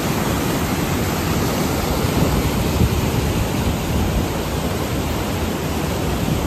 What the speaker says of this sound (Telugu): చూడండి ఇక్కడ చిన్నగా పాచి బట్టి ఉన్న వాటర్ ఫాల్స్ ఇవన్నీ